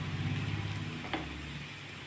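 Onion, ginger, garlic, curry leaves and green chilli sauté in a hot pan, giving a quiet, steady sizzle with a brief stir partway through.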